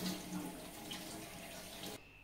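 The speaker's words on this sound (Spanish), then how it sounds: "Lo lavo un poco para que se pierda el exceso de sal que lleva." Tap water runs steadily over salt pork bacon in a kitchen sink, a continuous close splashing wash that stops abruptly near the end.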